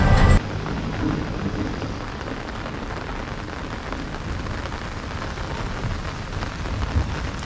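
Steady rain falls around a new flat, a dense continuous hiss of drops hitting surfaces with a brief louder burst at the start, no voices heard.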